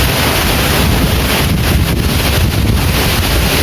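Strong gusting wind roars steadily across an open outdoor area where papaya trees are being knocked down, loud and continuous with buffeting against the microphone and no talk.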